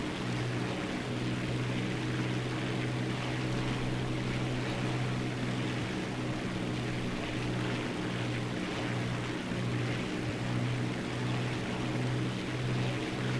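Propeller aircraft engine in War Thunder droning with a steady, low hum, continuous and even throughout with no talking.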